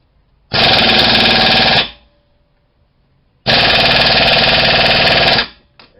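A loud impact wrench hammering at caliper bracket bolts on a 2005 Toyota Sienna, two rattling bursts of about a second and a half each separated by a short quiet gap, close and harsh.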